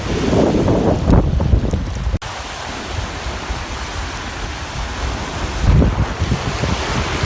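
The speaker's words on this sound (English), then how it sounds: "Even though the waves are hitting it, it's safe." Ocean waves surge and wash against a tripod standing at Kingscote Jetty in the evening, a steady broadband rush with louder swells near the start and again toward the end, mixed with wind noise on the microphone.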